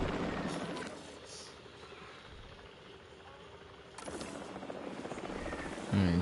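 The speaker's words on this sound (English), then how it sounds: "the helicopter is gonna tranquilize them" A helicopter in the video game Jurassic World Evolution 3 hovers with a steady rotor and engine drone, broadband and moderately loud, swelling again near the end.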